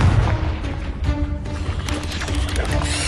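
A Confringo blasting spell goes off in Hogwarts Legacy with a sharp, booming burst at the start, followed by rumbling combat noise and smaller bangs.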